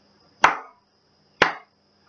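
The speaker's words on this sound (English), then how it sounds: "2 slow claps." Two slow, deliberate hand claps, each sharp and close, spaced about a second apart in an otherwise quiet room.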